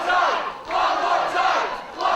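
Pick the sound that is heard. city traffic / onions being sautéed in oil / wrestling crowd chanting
wrestling crowd chanting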